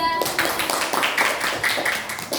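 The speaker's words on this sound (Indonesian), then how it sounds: "beri tepuk tangan kelompok 3" Classroom applause breaks out in a quick, uneven patter of hand claps, fairly close and lively, with a few voices mixed in.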